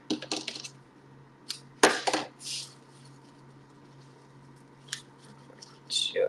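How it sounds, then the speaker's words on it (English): Scissors snip through ribbon while a Christmas gift bow is tied, giving several short, sharp, close cuts separated by quiet gaps. "I'll cut it just because it's easier."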